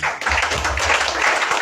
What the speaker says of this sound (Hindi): ताली बजाने में कंजूसी मत कीजिए।